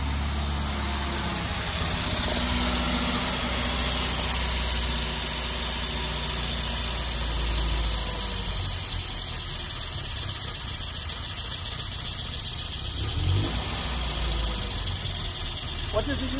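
A 1970 Lancia Fulvia 1.3S Sport Zagato idles with a steady, close engine drone and slight vibration throughout, while people talk over it.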